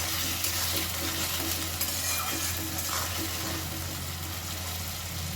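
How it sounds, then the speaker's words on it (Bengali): Salted vegetarian curry stirred in a pan, a steady soft sizzle with scraping spatula strokes against the metal, continuous and fairly quiet, no voices. "লবণ আবারও ভালো করে নাড়াচাড়া করে নেব"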